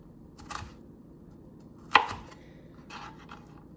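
A knife chops vegetables on a cutting board for steak fajitas, giving a few separate close taps with one sharper knock in the middle, no voices.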